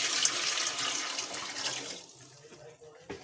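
Water is poured from a vessel into rice in a cooking pot while making matar pulao, a steady close splashing rush that tapers off toward the end, alone without talk.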